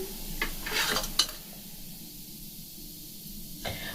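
Food frying in a pan of slightly cooled oil while making a homemade sweet: a few quick utensil clinks and stirring scrapes open, then a soft, steady sizzle runs on alone.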